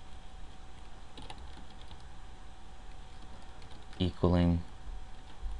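Keystrokes on a computer keyboard while Visual Basic code is entered, a short burst of clicks standing out near the end over a steady low hum, with a voice talking.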